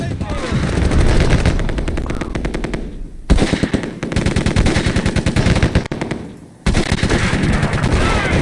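Sustained automatic gunfire in the Close Combat PC war game demo, long loud bursts of rapid machine-gun rounds broken by two brief pauses, with dense overlapping shots throughout.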